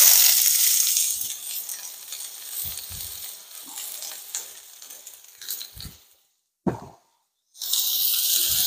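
Half an onion hits hot olive oil in an iron frying pan with a loud, close sizzle that gradually softens, breaks off into brief silence, then surges back just as strongly.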